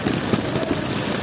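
Heavy rain pours down in a dense, loud, continuous roar of drops striking surfaces nearby, with no pauses.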